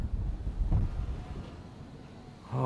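Strong wind roars through a snowstorm in a stretch of extreme winter weather, buffeting the microphone in heavy low gusts that ease slightly before a fresh surge near the end.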